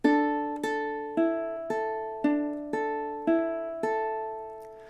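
Ukulele playing measure 14 of a song: a steady run of eight plucked notes in even time, each attack clear and ringing, played alone and close with no talk.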